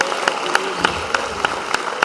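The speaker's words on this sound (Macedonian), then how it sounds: "Со еден аплауз и благодарност." An audience at a folk song and dance concert of Aegean songs claps together in a steady, even rhythm. Sharp, evenly spaced beats ring out over a faint tonal background.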